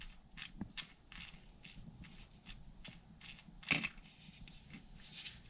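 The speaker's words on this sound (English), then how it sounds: "tilt the reel upside down. That way all of your washers fall right inside of the star drag" Small metal washers from a baitcaster reel's star drag drop and clink together in a series of light, close metallic ticks and rattles, with one louder jangle near the middle.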